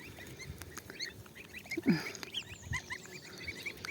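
Geese and goslings honk and gabble nearby in a flock, with several short calls scattered over outdoor background noise and one louder honk in the middle.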